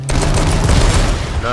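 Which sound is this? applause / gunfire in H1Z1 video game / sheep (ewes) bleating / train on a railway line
gunfire in H1Z1 video game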